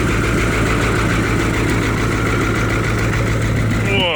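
A 1980 Chevy Kodiak (Topkick) truck engine idles steadily right after its first start in a few months, a loud, close, rumbling drone with a faint knock throughout.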